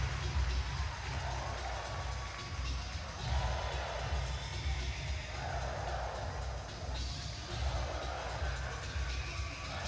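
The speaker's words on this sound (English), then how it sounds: "Sheffield crowd enjoying it." Sheffield home crowd at a 1992 ice hockey tournament, a broad, continuous roar of cheering and crowd noise that swells in waves, with distant arena rumble underneath.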